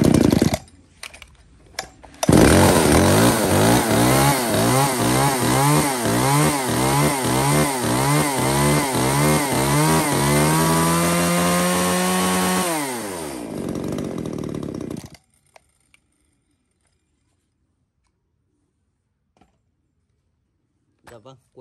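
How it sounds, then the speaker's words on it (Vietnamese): A Ryobi N12 top-handle chainsaw runs alone, its engine revving in rapid rising and falling bursts, then holding a steady loud whine before winding down and cutting off into near silence. "một con máy cưa tay cụt hiệu Ryobi N12"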